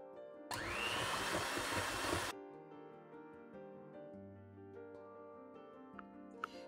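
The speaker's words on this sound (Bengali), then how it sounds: "ডিম আর চিনিটা আগে আমি ফেটবো, তারপরে আমি অন্য জিনিস দেবো এটার মধ্যে।" An electric blender beats eggs and sugar for banana bread, a loud dense whir that runs for about two seconds and then cuts off, leaving quieter kitchen sounds.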